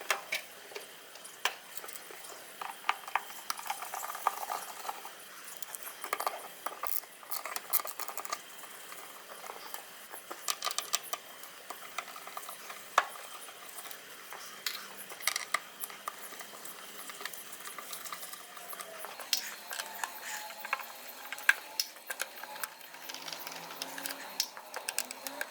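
Screws being undone on the airbox of a Honda VTR 1000 SP2 motorcycle, faint scattered ticks and small metallic clicks from a tool turning, quiet and close with long gaps.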